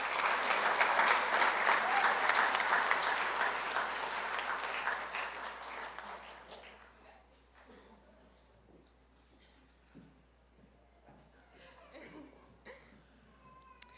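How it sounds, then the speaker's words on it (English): A graduation audience at Bella Vista College Prep applauds the class of 2026. Loud, full applause for about six seconds fades away, and scattered voices and light chatter follow. "Give yourselves a round of applause."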